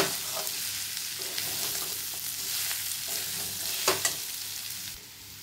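Salted chicken mince with peas being stirred in a hot pan, a constant close sizzle broken by scraping spoon strokes and a couple of sharper knocks.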